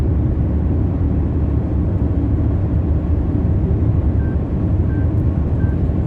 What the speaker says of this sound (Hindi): हमारी गाड़ी की आपको आवाज़ आ रही होगी, 120 के ऊपर जा रही है